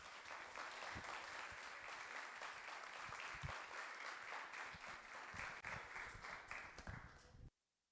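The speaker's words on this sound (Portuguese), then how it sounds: "As palmas louvem ao Senhor." A church congregation at a women-led service claps in steady, full applause that continues evenly, then cuts off abruptly near the end.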